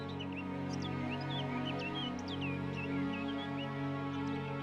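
Two birds in the animated series Deltora Quest call with several short chirps, repeating irregularly over a steady low hum, fairly faint and somewhat distant.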